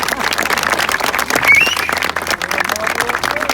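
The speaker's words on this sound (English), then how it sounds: "give them a round of applause" Steady applause from a crowd, dense clapping filling the whole stretch with a brief louder swell partway through.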